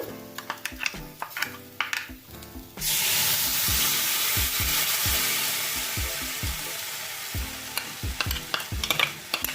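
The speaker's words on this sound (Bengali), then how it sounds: "এর মধ্যে চামচটা দিয়ে একটু গুলিয়ে নেব" A spoon clanks around a pan of white potato curry (aloo dum), then a loud hiss and sizzle rises as it cooks, with repeated scraping stirs continuing over the frying.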